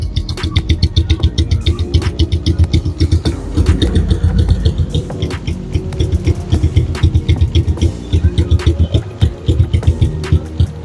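A motorcycle engine idles steadily, running on RS8 synthetic 20W-50 oil, with a loud, close, rhythmic low throb that stays even throughout, no voices over it.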